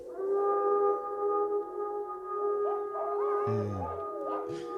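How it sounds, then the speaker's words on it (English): Wolves howl in a radio-play sound effect, several long sustained tones overlapping steadily and fairly loud, with shifting pitch toward the end, heard alone without talk. "As you say, Mr. Harker, the wolves. Listen"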